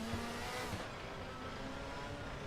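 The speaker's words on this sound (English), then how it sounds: "My car that sounds like a tractor." A DTM race car in the DTM Experience racing sim, its gearbox badly damaged and skipping gears, gives a steady, rough, droning engine note. The sound stays loud and continuous and turns duller partway through.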